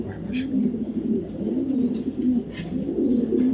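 Racing pigeons of a good bloodline coo steadily and close by, their low rolling calls running continuously through the whole stretch with a few faint higher chirps above.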